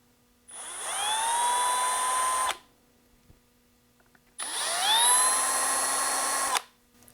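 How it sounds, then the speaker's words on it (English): Holes for LEDs in a BMW E34 dash cluster are reamed out with a small power tool, heard as two loud, close, high-pitched whining bursts about two seconds each, separated by a short pause. "So I'm going to ream them out just a tiny bit"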